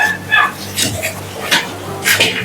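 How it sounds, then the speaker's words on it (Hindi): A small puppy next door yelps and barks in a few short, sharp bursts close by. "यहाँ बगल में एक पिल्ला है छोटा सा, वही हमेशा चिल्लाता रहता है"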